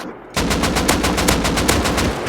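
Rapid automatic gunfire from MP5 guns in the video game Rust rattles out in a loud, steady burst lasting about two seconds after a brief quiet start.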